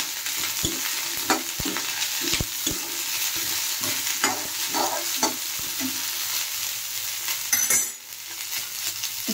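Cauliflower frying in mustard oil with cumin in a kadai, a steady close sizzle broken by repeated sharp scrapes and clacks of stirring, with a brief louder burst near the end.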